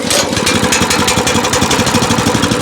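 A WEIMA WM900M-3 walk-behind tractor with a rotary mower attachment runs loud and close, its engine chugging in a fast, even pulsing rhythm throughout.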